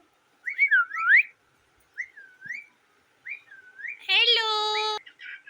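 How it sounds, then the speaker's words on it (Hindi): A pet parrot whistles in rising, looping phrases, then gives a longer harsh, buzzy call near the end, close and clear in a quiet room. "मेरे तोते ने मुझे देख के बोलना शुरू कर दिया"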